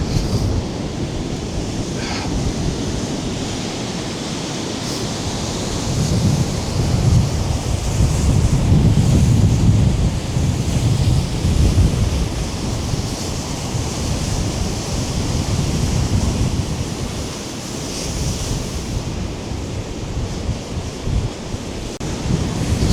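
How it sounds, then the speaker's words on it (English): Storm waves on Lake Erie crash and roll continuously under strong gusting wind, a loud, dense roar with heavy wind buffeting on the microphone and no speech. "Quite some waves there. Look at this. This wave's going to crash."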